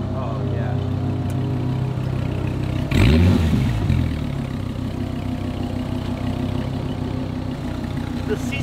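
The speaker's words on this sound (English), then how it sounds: "So we're gonna go for a Viper ride." Dodge Viper engine rumbling steadily from inside the cabin during a ride, with a brief louder clattering burst around the middle; people talk over the engine.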